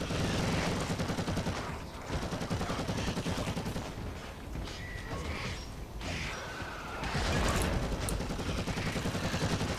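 Dense, loud sustained gunfire in Warhammer 40k: Eternal Crusade, including bolt gun fire, rattling almost continuously with brief dips; the screen-shaking bursts dominate the scene.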